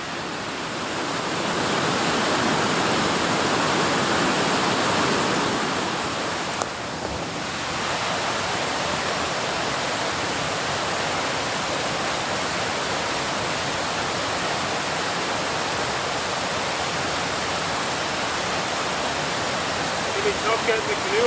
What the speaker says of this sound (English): Gorgeous spot here at Center Falls. Sculpted rock. And a beautiful cascade.